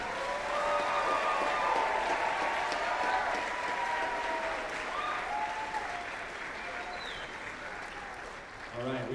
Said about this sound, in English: So can we give these kids a round of applause?